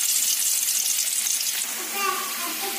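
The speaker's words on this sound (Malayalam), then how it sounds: "എണ്ണ ചൂടായി വന്നിട്ടുണ്ട് ഇനി നമുക്ക് ചെമ്മീനെ അതിനത്തേക്ക് ഇട്ട് കൊടുക്കാം" Prawns go into hot oil in a pan, producing a steady, loud broadband sizzle throughout, with a slight settling of the hiss partway through.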